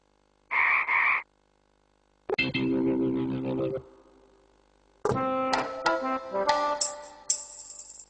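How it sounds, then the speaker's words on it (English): A toy frog croaks in a children's sound game, a short loud burst that stands apart from other toy noises, including jingling clatter, with no talking. "frog."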